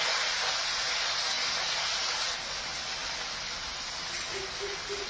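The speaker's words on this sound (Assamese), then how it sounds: "দি পেলাই শাককেইডাল দি দিছোঁ কেৰাহীখনত।" Madhusuleng greens hitting a hot wok with cumin seeds, giving a steady broadband sizzle and hiss that eases slightly partway through, with a few faint clicks near the end.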